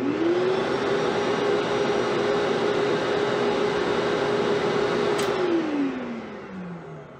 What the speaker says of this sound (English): So I'll turn the Festool on right now.